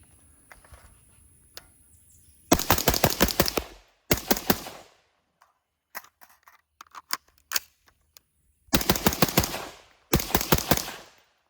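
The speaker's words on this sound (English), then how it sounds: "I'm gonna shoot some of another mag, and I'm just gonna dump rounds down range again" Rifle with an enhanced down vent bolt carrier group fired in rapid bursts at an outdoor range, loud dense strings of shots separated by pauses, with a few scattered single cracks and clicks between bursts.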